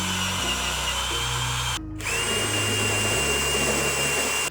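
A power drill bores mounting holes out to 3/8 inch in the bed of a 2023-or-later Chevrolet Colorado pickup, a loud, close, steady whine that briefly cuts out and then resumes with shifting pitch.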